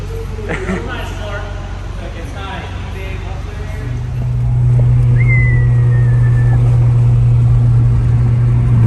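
A Honda Prelude four-cylinder exhaust rumbles low and close, then swells into a louder, sustained drone midway as the revs climb and hold, with a faint whistle riding on top.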